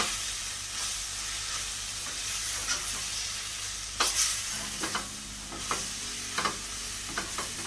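Seeni sambol, a sweet Sri Lankan onion relish, being stirred as it fries in a pan, with a steady sizzle underneath and occasional sharper scrapes and knocks of the spoon, close and fairly loud.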